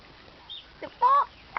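Muscovy ducks nearby give a few short, scattered calls: brief squeaky notes and one louder, wavering quack between quiet pauses.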